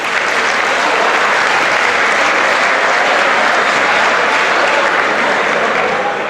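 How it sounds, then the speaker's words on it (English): Audience applause at a college speaking engagement, a dense, steady roar of many hands clapping at once, loud and sustained throughout without pause or voices rising above it. "Give yourselves a round of applause."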